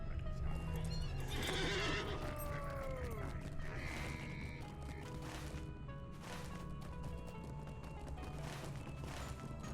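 A summoned horse in a Mordor-themed video game gives a loud neigh and whinny followed by steady clip-clopping hooves over a constant low game ambience, with no speech.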